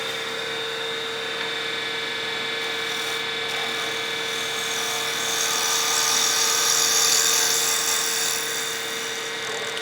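A skew chisel shaves a spinning pen blank on a wood lathe, giving a steady rasping whir with a constant motor hum underneath that swells slightly midway and carries on unbroken throughout.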